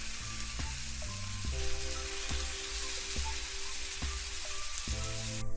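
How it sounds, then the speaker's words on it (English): Sirloin steak sizzles in a red-hot pan with a loud, continuous crackling hiss, close up, while soft background music plays underneath. "If your steaks don't make this sizzling sound"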